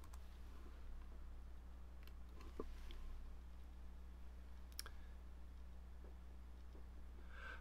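A computer mouse clicks a few times during a login on a course website. The clicks are sparse, faint and sharp, scattered over a steady low electrical hum, and no one talks.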